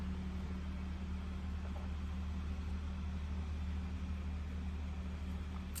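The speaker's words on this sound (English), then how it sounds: "He's mowing with this giant tractor looking thing." Steady low engine drone of a large tractor-like ride-on lawn mower working outside, a constant distant hum that holds level throughout with no pauses and no talking.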